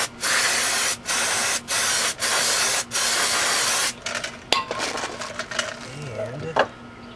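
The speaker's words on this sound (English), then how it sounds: "One more time with the brake cleaner." Brake cleaner sprays onto a wheel hub of a 2001 Chevy Cavalier in five quick, loud hissing bursts, followed by faint dripping, clinking and handling noises.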